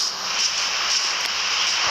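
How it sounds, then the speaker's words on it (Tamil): Steady rain in the video game Minecraft, a constant dense hiss with no breaks, fairly loud and close, with nothing else heard over it. "மழை பெய்யுது."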